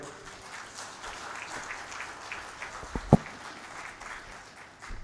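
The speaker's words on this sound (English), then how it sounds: "Another hand clap for Dr. Ian Spielman" Scattered applause breaks out from an audience at a software launch event in Uganda, a faint patter of hand claps with one sharp, loud clap standing out midway.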